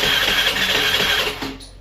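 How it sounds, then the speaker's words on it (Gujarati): A Honda Activa scooter's electric self-starter cranks with a close, steady whirring grind that never catches into running, then fades out. "આજ તો ભાઈ એક્ટિવા ચાલુ જ નહીં થતી જો સેલ મારું ને તો"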